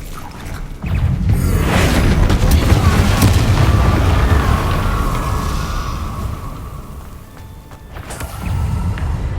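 A Confringo blasting curse in Hogwarts Legacy erupts as a loud, booming explosion, followed by a long rolling rumble and debris crackle that slowly fades before a second burst near the end.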